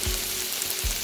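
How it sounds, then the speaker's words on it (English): Vegetables sizzling in a hot pan while stuffed bell peppers are being made, a dense, steady crackling hiss up close, with two low thumps of stirring or the pan shifting. "vegetables that sizzle? You hear that?"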